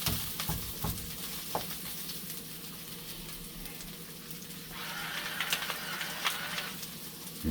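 Onions caramelizing in a pan for steak gravy, a steady soft sizzle with occasional crackles and stirring scrapes, growing a bit brighter midway.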